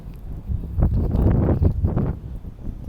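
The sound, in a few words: strong wind during a snowstorm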